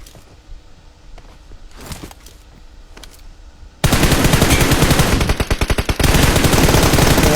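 Dense bursts of automatic gunfire in PUBG, starting after a quiet stretch and then roaring loud and close, rapid stuttering shots with brief gaps and no talking.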